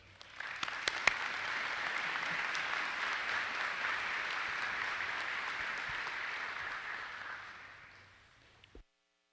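Sustained audience applause at a university School of Management commencement ceremony, welcoming the dean to the stage; a dense, steady wash of clapping from a large crowd lasting several seconds before fading out.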